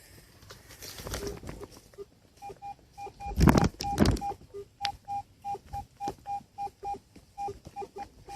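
A metal detector gives off a series of short, regular electronic beeps, rising to a steady pulsing pattern, with faint rustling and handling noise early on, at a Confederate cavalry camp site.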